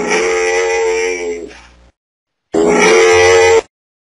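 A camel gives two loud, deep, rasping grunts, the first drawn out and fading, the second shorter and abrupt after a brief pause, heard close and alone.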